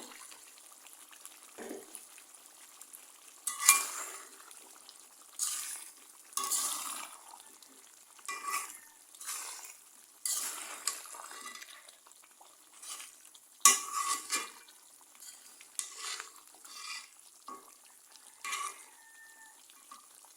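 Beef and potatoes stirred and sautéed in a pot for a beef-potato curry, with intermittent scraping strokes and soft sizzling in bursts, close and moderately quiet, no talking.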